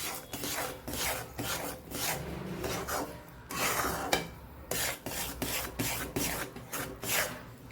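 Boondi being stirred into sugar syrup in a pan over a low flame, giving steady rasping, scraping strokes of a spoon against the pan in a repeated rhythm, close and fairly loud.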